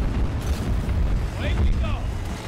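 A grenade goes off in the shooter Battlefield 2042 as a heavy, rumbling blast that lingers under dense battlefield din, with a voice talking over part of it.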